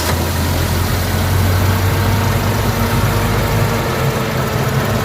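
A Toyota Vitz engine with a stall and low-power fault idles roughly with heavy vibration, a loud, close, continuous low rumble that holds steady without any revving.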